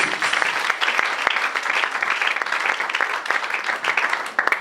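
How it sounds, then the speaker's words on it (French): A church congregation applauding loudly for the Lord, dense sustained clapping from many hands filling the room from start to finish. "Acclame très fort pour le Seigneur"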